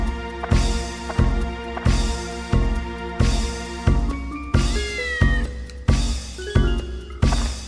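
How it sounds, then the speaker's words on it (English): A cat meows repeatedly in the video game Dark Cloud, loud rhythmic cries roughly every second, some rising and drawn out, with no talk over them. "The cat retreats again."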